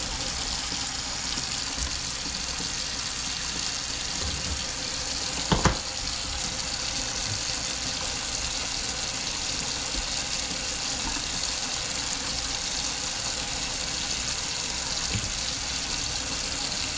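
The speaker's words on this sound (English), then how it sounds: "So this is just a Delta kitchen sink faucet." A Delta kitchen sink faucet runs in a steady, even hiss of flowing water, continuous and moderately quiet, with a single brief knock partway through.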